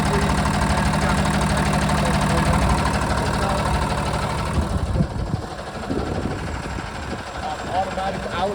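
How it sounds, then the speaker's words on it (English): A 2014 Hino 268A box truck with a 26-foot box runs at a steady diesel idle with a low rumble, close by; the engine note thins after a few seconds as handling noises take over. "show you guys what it sounds like, what's going on. As you can see, great condition, running smoothly"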